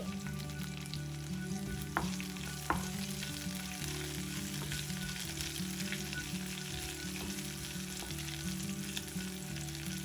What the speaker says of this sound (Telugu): 1 స్పూన్ జీలకర్ర వేసి వేయించుకోవాలి